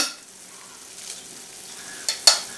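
Bitter gourd curry being stirred in a pan after jaggery is added: a soft, low sizzle with light scraping, then two sharper clinks of the spoon near the end, close and fairly quiet.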